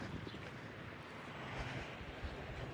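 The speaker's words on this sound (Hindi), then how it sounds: "बहुत हवा चल रही है आज," Strong, blustery wind blowing outdoors on a breezy day, a low rushing roar buffeting the microphone with gusts that swell toward the end, fairly faint overall and with no talking.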